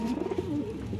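A male pigeon with a flowered head coos in a steady, continuous murmur, a low warbling call repeated close by with no speech over it.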